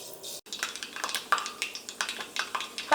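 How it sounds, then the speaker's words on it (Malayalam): Mustard seeds crackle and pop in hot coconut oil in a pan, a close, irregular run of sharp small bursts, alone without talk. "അപ്പോൾ കടുക് പൊട്ടിയിട്ടുണ്ട്."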